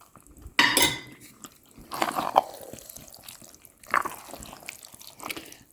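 Pasta water poured into a pan of turkey spaghetti, with a sharp clatter near the start followed by several shorter pan and utensil clinks and soft liquid sounds, close by with no talking.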